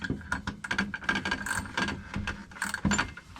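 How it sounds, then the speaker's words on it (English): Taking the blade off a Makita cordless circular saw during a repair: a close run of metallic clicks, ratcheting and clinking of the tool's parts, irregular and fairly loud, with no speech. "let's take the blade off, because I don't want that to start working whilst I'm trying to take it to bits."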